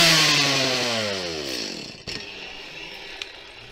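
A Stihl chainsaw engine winds down from a loud, high revving whine, its pitch sliding lower as it slows to a stop, then a couple of faint clicks follow.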